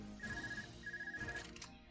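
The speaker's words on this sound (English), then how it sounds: "what's your cell phone doing not on vibrate?" A cell phone ringing in the Trails of Cold Steel video game, two repeated electronic ringing bursts, faint and quiet under game background audio.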